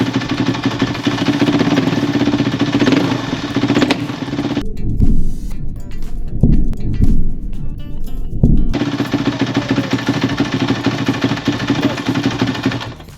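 Kawasaki KX450F dirt bike under restoration, its engine revving hard in a loud rattling drone that drops to choppy bursts and pops midway before the steady roar returns, close by.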